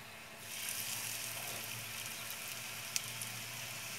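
Batch of breaded chicken pieces frying in hot oil in a pan, a steady soft sizzle and crackle throughout with a faint low hum, occasional small pops near the end.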